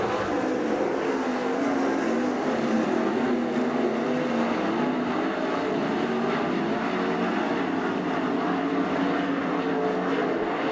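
Race cars in a heat race at Attica Raceway Park, a dirt oval, roar continuously with a steady, loud, droning engine noise throughout, no voices present.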